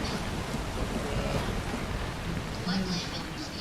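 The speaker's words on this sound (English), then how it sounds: "Yeah, man, huge storm." Steady rain from a storm in Assassin's Creed Odyssey, a dense continuous hiss with faint low rumbling beneath, and voices chatting over it.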